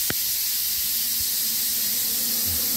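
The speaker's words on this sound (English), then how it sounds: "that air, there is a 10 second purge on the machine." A Thermacut SD55 plasma cutter runs its ten-second air purge after switch-on, producing a steady, fairly loud broadband hiss of rushing air that continues unchanged throughout, with a faint click near the start.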